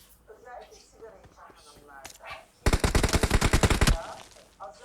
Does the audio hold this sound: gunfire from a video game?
yes